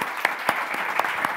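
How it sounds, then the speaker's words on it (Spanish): Audience applause at a tribute event, a soft, steady patter of many hands with a few sharper claps standing out. "Les voy a pedir un aplauso enorme"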